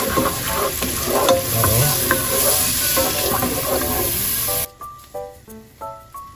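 Water poured into a pan of frying garlic sets off a loud, continuous hissing sizzle that cuts out abruptly, followed by a few soft tonal clinks and bubbling pops, all close up.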